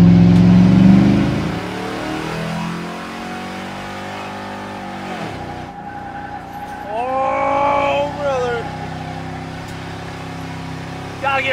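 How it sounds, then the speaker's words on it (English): A Ford Crown Victoria V8 race car on Nitto tires revs hard and climbs through the gears, its engine note rising in loud sweeping tones with a brief tire squeal midway, while a voice talks over it. "These Crown Vics and their V8s actually get down pretty good."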